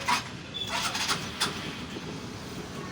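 An old-model Suzuki Access 125 scooter, just repaired for an engine noise problem, starts up with a brief burst and then idles quietly and steadily nearby.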